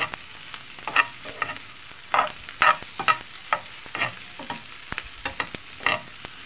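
Leftover rice frying with tomato and egg, a steady close sizzle broken by repeated scraping and clacking strokes of a spatula against the pan, with no voices.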